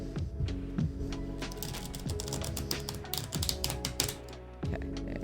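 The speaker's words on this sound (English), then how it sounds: "This deck does not like to shuffle." A tarot deck is shuffled close up in a quiet room, giving a continuous run of small crisp card clicks and slaps, with a faint low tone steady underneath.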